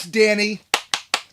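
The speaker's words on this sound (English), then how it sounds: "You get a special applause tonight just for that" A brief spoken word, then three slow, sharp hand claps from one person close by, evenly spaced, during a live cruise news stream.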